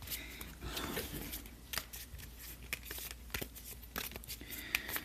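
Quiet crisp riffling and snapping, like a deck of Magic: The Gathering cards being shuffled close by, in short uneven bursts.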